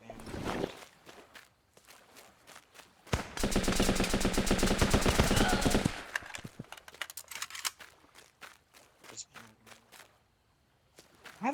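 Rapid automatic gunfire from the video game Running With Rifles erupts in a dense, loud burst lasting a few seconds, surrounded by scattered softer shots and footsteps, with someone talking before and after.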